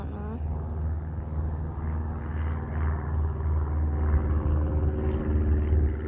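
Boeing F-18 jet aircraft parked on the ground, giving off a steady low rumble that builds slightly over several seconds, heard continuously at moderate loudness without talk.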